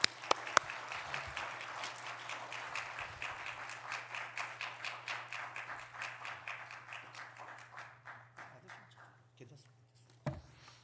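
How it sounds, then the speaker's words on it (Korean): A church congregation at a mission night claps to welcome a guest missionary. Quiet, rhythmic clapping at a steady pace swells slightly, then slows and fades out, with a hum running underneath and a soft thump near the end. "환영의 박수로 맞이하겠습니다"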